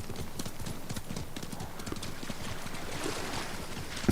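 Horse hooves clip-clopping through shallow water in the game Ghost of Tsushima, a steady run of splashy hoofbeats under constant water noise, fairly close and even in loudness throughout.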